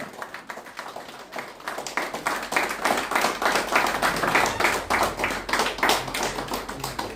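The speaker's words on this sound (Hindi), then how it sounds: "जोरदार ताली क्लैपिंग होना चाहिए सुधा मैम के लिए।" A room of people claps hard in a rhythmic, steady burst, honouring a woman at a 3-star rank achievement event; dense repeated hand claps build and hold loud and close throughout.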